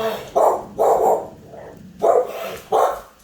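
Several loud, close barks from an agitated dog come in two pairs separated by a short lull, with a low growl running underneath.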